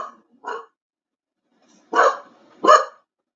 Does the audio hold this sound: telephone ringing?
no